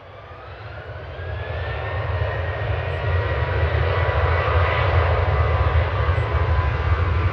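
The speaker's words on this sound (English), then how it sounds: "Sun Express from Dalaman's going to be the next one in" A SunExpress airliner arriving from Dalaman at Manchester Airport approaches with a jet roar that swells steadily from moderate to loud and holds near its peak, broadband rushing over a low rumble, with no speech.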